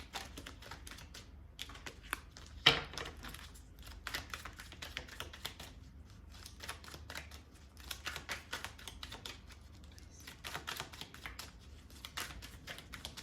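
Tarot cards are shuffled close by in a long, steady stretch of soft, rapid card flicks and rustles, quiet throughout apart from one sharper snap early on, with no voices.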